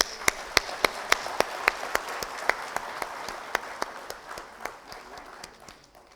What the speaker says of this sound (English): let us feel proud in applauding when we see the distinguished dignitaries.